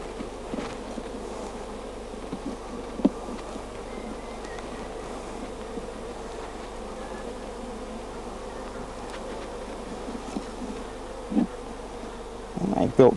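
Honey bees drone continuously at close range during a transfer from a top bar nuc to a hive, a steady buzzing hum with occasional brief louder passes and soft knocks toward the end.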